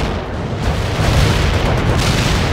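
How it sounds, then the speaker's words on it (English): Artillery shells exploding in the video game World in Conflict make a dense, continuous rumble of heavy booms that swell louder partway through, with no voices over them. "Artillery strike was on the mark."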